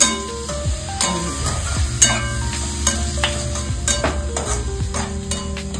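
Ghee is stirred into mutton pulao in a pot with a steady sizzle and clinking, scraping spoon strokes, loud and close, along with some background tonal sound and no clear talk.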